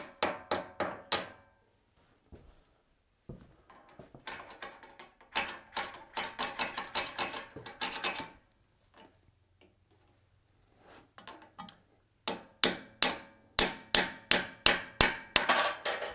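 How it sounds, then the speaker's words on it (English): A hammer taps on a metal wrench in sharp, ringing strikes, first in a short burst, then a fast flurry, then a steady run of louder evenly spaced blows, with quiet gaps between groups. "Tappy, tap, tap."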